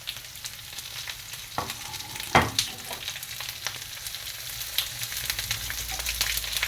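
Potatoes and mushrooms fry and brown in a pan, giving a continuous close sizzle broken by scraping stirs and a few sharp clatters of a utensil on the pan.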